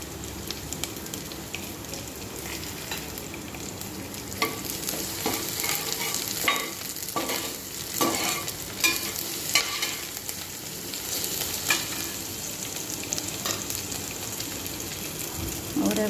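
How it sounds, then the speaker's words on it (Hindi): Crushed garlic and green chilies sizzle and crackle steadily in hot oil in a home kitchen pan, with occasional stirring scrapes, close and continuous with no talk. "और ये डाल दिया इसमें लहसुन जो मैंने कूट के रखा है अभी भी। और ये हरी मिर्ची भी डाल दिया है।"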